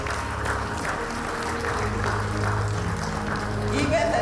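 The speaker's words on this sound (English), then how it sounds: "Continue clapping for them," Scattered clapping from the audience at a county government policy launch for CRA staff, moderately loud and steady over a low hum, with a voice talking over it.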